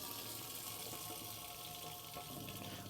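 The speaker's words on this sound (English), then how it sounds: "So this is just showing that your hot water system's working." Hot water running steadily from a tap in a Swift Voyager 564 caravan, a constant close splashing flow without breaks or speech.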